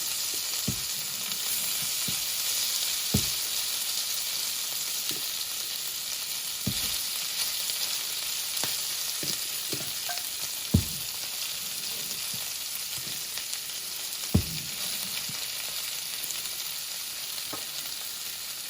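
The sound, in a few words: pork sisig frying in a hot pan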